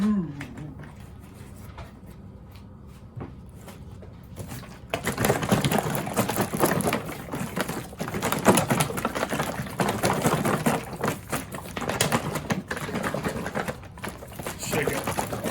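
A container holding yeast and warm water is shaken, first quiet with low rumbling, then a vigorous, continuous rattling slosh that keeps going at steady loudness.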